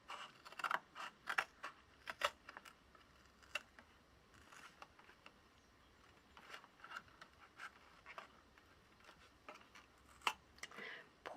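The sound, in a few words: cutting paper craft material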